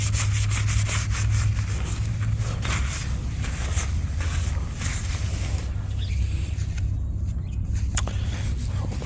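A cloth wiping rust spots on a 2006 Lincoln Town Car Signature Limited, steady close rubbing strokes over a low constant hum.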